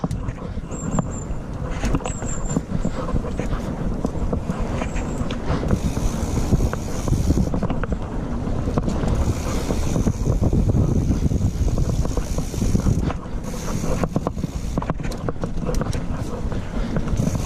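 Ride through a forgotten water puddle on a bike with a chest-mounted camera: a steady rush of splashing and spray mixed with heavy wind buffeting on the microphone, continuous and close throughout, with a brief exclamation early on.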